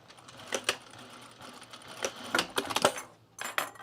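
Sewing machine back-tacking a collar seam on a pajama top: short mechanical bursts of stitching, stopping and starting in quick runs, close and fairly loud.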